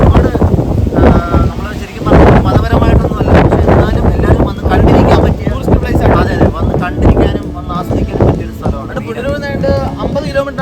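Strong wind at a wind-power site near Tenkasi, India roars and buffets the microphone in heavy low gusts while people talk underneath it.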